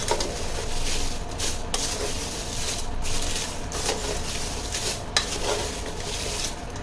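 Small hot chilies sauté in a little oil in a pot, producing a steady close sizzle with repeated scraping and clinking of a spoon against the metal, no talking.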